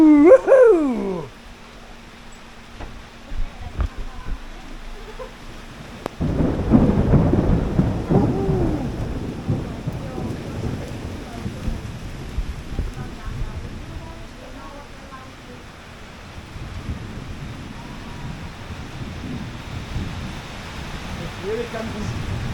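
Thunderstorm in Sisaket, Thailand: a loud, close crack and long rolling rumble of thunder over steady rain, with a dog barking nearby and people's voices at moments.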